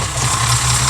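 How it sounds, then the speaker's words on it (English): The engine of a late-model David Brown tractor drones steadily on the road, a loud, even, low-pitched running sound with no breaks. "the engine sounds sweet as a nut on it"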